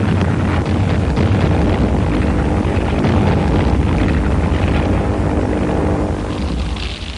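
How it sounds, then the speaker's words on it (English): Japanese aircraft bombing Manila in December, as heard in wartime archival footage. A loud, continuous roar of engines and rumbling blasts fills the whole stretch with a dense, wind-like wash of noise and no talking. "Nipponese planes began bombing Manila in early December."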